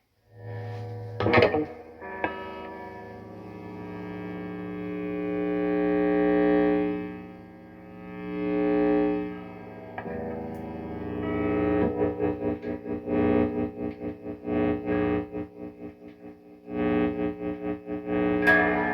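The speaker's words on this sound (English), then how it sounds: "Number 10, feedback." Sustained, distorted electric guitar tones that swell and howl into feedback, then break into rapid strummed pulses toward the end; loud and close, no talking.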